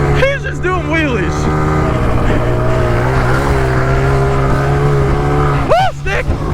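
A dirt bike engine revs loudly and close by as the rider pulls wheelies, its pitch swinging up and down in sweeping climbs and dips; voices talk over the engine.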